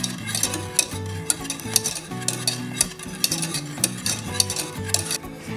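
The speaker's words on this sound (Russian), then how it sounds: "Сейчас сливочное масло растает, и наша глазурь станет еще вкуснее. Перемешиваем до однородной массы." A spoon stirs chocolate glaze with melting butter in a pot, giving steady rhythmic scraping and clinks against the metal with a soft sizzle underneath and no talking.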